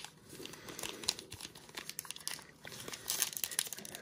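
A 2021 Donruss trading card pack is torn open, with steady crinkling and crackling of foil wrapper close up, in dense bursts that grow louder near the end, with no talk.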